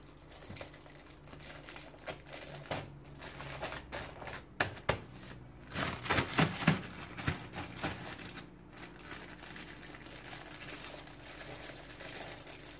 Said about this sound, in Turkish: Poşetlerin ağzını sıkıca bağlayacağım.